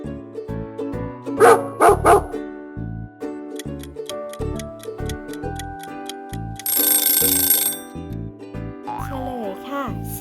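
A short run of dog barks near the start, loud and close, over a steady ticking musical backing that continues afterward.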